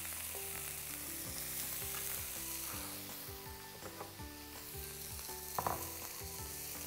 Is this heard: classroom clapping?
no